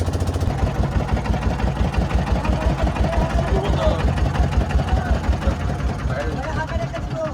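A motorboat engine chugs with a steady rhythmic throb on a canal trip toward Guliakhali sea beach in Sitakunda, while voices talk over it.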